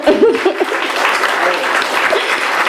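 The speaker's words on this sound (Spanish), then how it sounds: "démosle un fuerte aplauso" Audience applause at a Morena political gathering in Mexico City, steady and dense for under three seconds, with a voice briefly audible over the clapping near the start.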